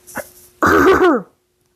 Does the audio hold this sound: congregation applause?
no